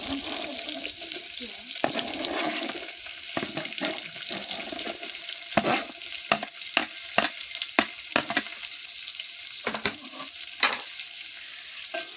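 Onion, garlic and green chili sizzle and fry in hot oil while a spoon scrapes and stirs them in the pan, with steady hissing broken by sharp clinks and scrapes, and a brief stretch of running water early on.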